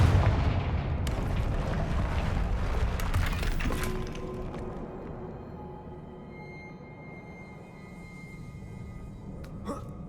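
Confringo fire-spell explosions in the Hogwarts Legacy video game: a loud, rumbling blast and crackling burst that slowly fades into a quieter tail, with a small pop near the end.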